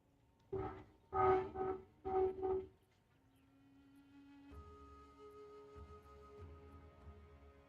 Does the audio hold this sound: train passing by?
yes